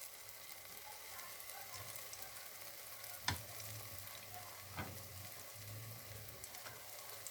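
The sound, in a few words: banana fritters with chira and peanuts frying on low heat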